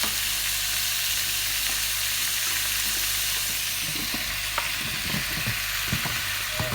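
Beef and mushrooms fry on a cast iron chiminea with a steady sizzle, occasional stirring scrapes and pops rising over the continuous hiss.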